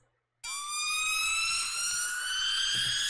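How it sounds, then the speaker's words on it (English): A synthesized riser transition effect in a trap metal beat: a bright, siren-like tone that rises in pitch and then holds, loud and sustained with no other sounds. "and another riser."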